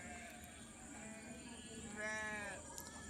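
A multicoloured flock of sheep, some with wool regrowing after shearing, lets out a few wavering bleats, faint and at middle distance, the loudest call coming near the end over a steady farmyard hum.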